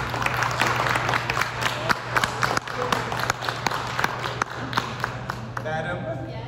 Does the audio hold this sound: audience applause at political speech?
yes